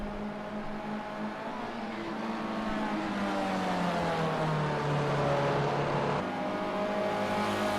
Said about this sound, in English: You can see that long train of cars heading through that last corner